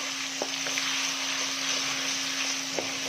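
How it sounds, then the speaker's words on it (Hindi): Ginger paste and garlic paste frying in a pan for dhaba-style chana dal, giving a steady close hiss of sizzling oil with a few faint clicks from stirring, and no voices. "अदरक लहसुन का पेस्ट डालेंगे, आधा चम्मच अदरक का पेस्ट, आधा चम्मच लहसुन का पेस्ट डालेंगे। तो थोड़ा सा भूनेंगे"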